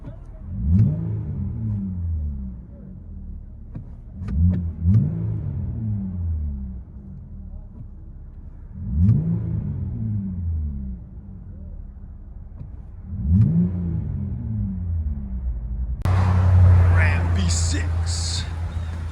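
Inside the cabin of a RAM 1500 Big Horn with a 3.6L V6 eTorque and a Borla Pro XS exhaust with resonator delete, a low rumbling idle swells in several rev blips, and a louder noisy burst comes at the end.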